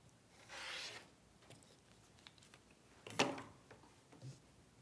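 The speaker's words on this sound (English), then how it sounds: "I'm trimming 1/4 inch to the side of my sew line." A fabric quilt block for an arrow block being trimmed a quarter inch beside the sewing line, with a soft rub and scrape near the start and a sharper cutting swipe later, quiet and without talk.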